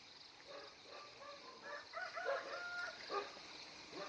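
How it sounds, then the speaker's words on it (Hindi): Soft, distant bird chirps and calls repeat in short outdoor phrases over a quiet background hum, with no people talking. "पक्षियों की चहकने की आवाज़ें आ रही हैं"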